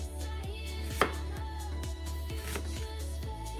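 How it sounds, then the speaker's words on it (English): A knife chops half a red onion and other vegetables on a cutting board. The quick, regular strikes come roughly every quarter second, sound close, and are fairly quiet, with one sharper knock partway through. "I'm just gonna slice that up. And I'm going to be using half a red onion."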